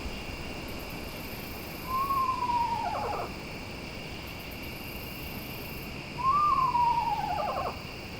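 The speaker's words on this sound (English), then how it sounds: "Screech owls are the type that live in holes, basically in cavities of trees." Two descending whinnying trills from a screech owl, spaced a few seconds apart, carry over a steady hiss of insects at night.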